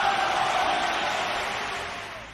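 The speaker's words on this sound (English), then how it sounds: "Let's get a round of applause." A studio audience at a comedy panel show applauds, a broad, continuous burst of clapping and crowd noise that stays loud and slowly fades over a couple of seconds.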